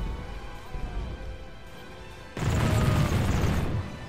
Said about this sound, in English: Some of my thunders are starting to fire at his handgunners.